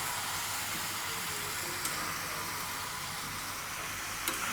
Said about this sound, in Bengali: মাংসের ভিতর তো সব মশলা দিয়ে এখন কষিয়ে নিচ্ছি